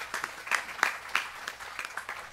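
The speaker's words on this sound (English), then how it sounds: "Give her a round of applause." A small audience at a gurukula gathering gives a round of applause, a few people clapping in distinct, uneven claps that are moderately near and not very loud.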